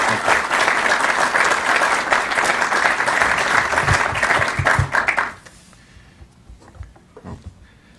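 Audience applause rising to greet author Jonah Goldberg at a Heritage event, a dense steady clapping from a full room that holds for about five seconds and then cuts off abruptly, leaving a few scattered claps and faint room noise.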